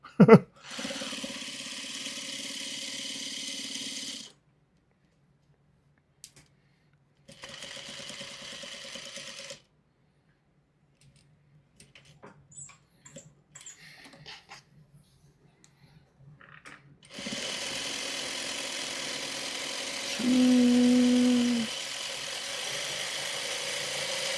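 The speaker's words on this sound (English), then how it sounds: "this sewing machine is actually doing pretty good with this level of thickness" A sewing machine runs in steady mechanical bursts, stopping and starting several times with short pauses, close and moderately loud.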